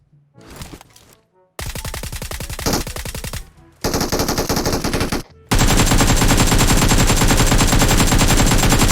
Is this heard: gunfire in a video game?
yes